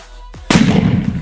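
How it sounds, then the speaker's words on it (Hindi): A single sharp, loud Diwali firecracker bang goes off close by inside a hole in the ground, followed by a brief rumbling, muffled echo. "अब हुआ है धमाका, और गाइस ये देखिए धुआं हो चुका है"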